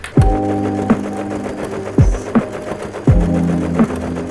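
Household sewing machine running a zigzag stitch to mend a small hole in clothing, heard as three short bursts of rhythmic mechanical whirring with a low motor hum, close and fairly loud.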